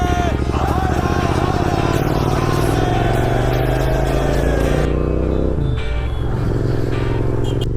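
A Royal Enfield 650 Interceptor twin pulls away nearby, its engine rumbling loudly and revving up in pitch, then dropping briefly as it shifts gear before pulling on, with faint voices around it.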